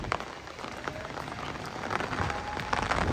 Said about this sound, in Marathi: एवढा वारा पाऊस, छत्री पकडू का मोबाईल पकडू